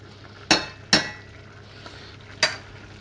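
A metal utensil scraping and clinking against a pan while flour is stirred into melted butter, three sharp separate knocks over faint background hiss.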